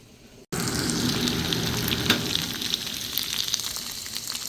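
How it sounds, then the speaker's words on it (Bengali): Small cut pieces of cooked beef fry in a pan with a loud, steady crackling sizzle that begins abruptly after a brief quiet start and continues evenly, with no voices. "এটার সাথে একটু গরুর মাংস অ্যাড করব ছোট ছোট করে কেটে একবারে ভাজা ভাজা করে নিচ্ছি"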